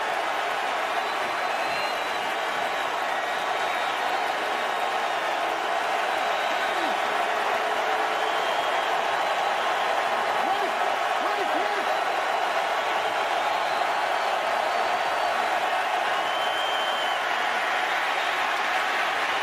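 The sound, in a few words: football stadium crowd cheering loudly before 3rd down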